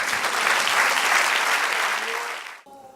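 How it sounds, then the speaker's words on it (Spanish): A church congregation applauds in praise during a Spanish-language worship service, a dense, steady wash of many hands clapping that fades out abruptly near the end, leaving faint room sound. "Dale un aplauso al Señor."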